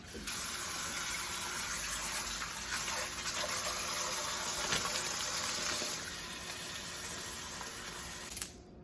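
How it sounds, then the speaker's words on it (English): Water gushes steadily from a tap into a container for garlic soaking, a continuous loud hissing pour that stops abruptly near the end. "Go ahead and put my water in here."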